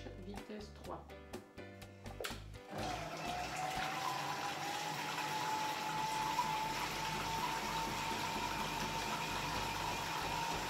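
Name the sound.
Monsieur Cuisine Connect food processor running at speed 3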